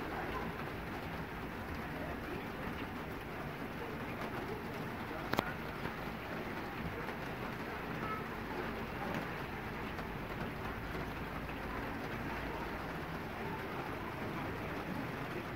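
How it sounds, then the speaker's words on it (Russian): Heavy rain pours steadily outdoors where people wait in a crowd, most under umbrellas, a constant soft hiss with a single sharp knock partway through and no clear speech. "они вынуждены стоять под проливным дождем"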